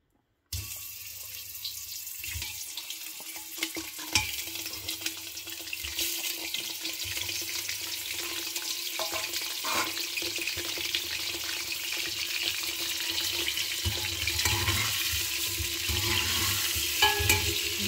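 Steady hiss of mutton frying in ghee in a pot, with occasional stirring clatter and scrapes against the pot; no voices.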